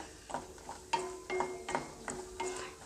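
Cashews fry in a pan for kaju paneer masala until they turn brown. Quiet, close stirring scrapes recur every half second or so over a soft, faint sizzle.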